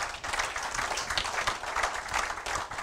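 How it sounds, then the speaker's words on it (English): A woodturning club audience applauds at a monthly meeting, steady, moderately loud clapping from many hands in a room, continuous for a few seconds. "How about a round of applause for"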